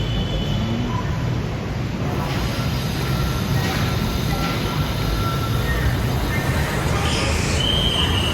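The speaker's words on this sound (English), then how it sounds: "We are at Ekamai station, BTS, so the SkyTrain station" A BTS SkyTrain runs through Ekamai station in Bangkok, giving a loud, continuous rumble of rolling wheels with high metallic squeals and whines rising and fading over it, close by and constant.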